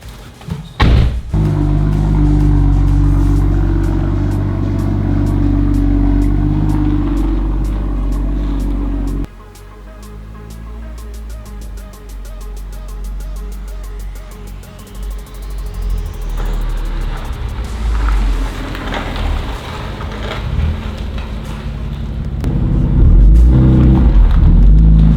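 BMW M2 driving off: a loud, close engine drone that cuts out abruptly, then builds again with rising revs and rumbling acceleration as the car pulls away, with no talk.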